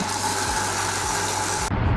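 A nearby vehicle engine rumbles steadily at idle beside a road, a constant low drone with a brief shift near the end.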